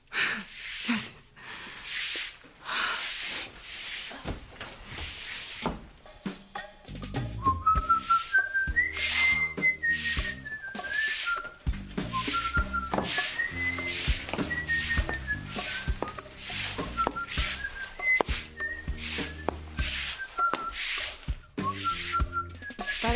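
Someone whistles a wandering, melodic tune close by, while thumps and scraping movement sounds come and go underneath.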